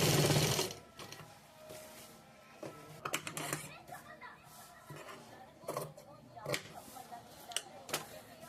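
A sewing machine stitches a blouse in short bursts of mechanical whirring separated by pauses, close and fairly quiet, while someone talks through the gaps.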